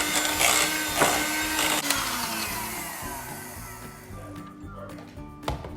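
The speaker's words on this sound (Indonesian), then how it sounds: "Kita mixer dulu sebentar supaya bisa di squeeze ya." Electric mixer whirring steadily as it whips vanilla custard filling for choux pastry, a loud continuous motor drone that eases slightly before a brief knock near the end.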